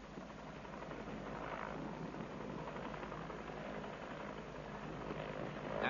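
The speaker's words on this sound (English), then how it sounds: "In order to allow room for the second helicopter, which is to follow, Kelly moves his chopper to the side" A helicopter hovers low and shifts sideways to clear space for a second helicopter, giving a continuous whirring engine and rotor drone with slow swells in intensity, alone without speech.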